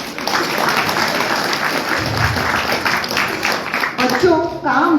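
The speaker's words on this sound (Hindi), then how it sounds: "ताली बजाइए इनके लिए" Audience at a career and life skills workshop for Kharia youth in Ranchi applauds loudly and steadily across the hall, the clapping sustained throughout, with a voice rising over it near the end.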